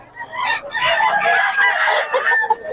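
Roosters for sale crow loudly and close, a long drawn-out cock-a-doodle-doo mixed with clucking hens, continuous for several seconds.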